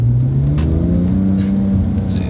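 A RUF RT12 S with sequential turbos pulls hard, its engine note climbing smoothly in pitch as it accelerates, loud and close, with brief voice-like bursts over the top.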